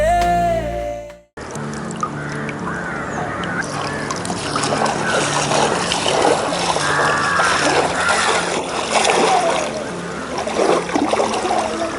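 Water splashes and trickles continuously as people bathe in a river, a busy, close wash of sloshing with scattered louder splashes throughout, with voices mixed in.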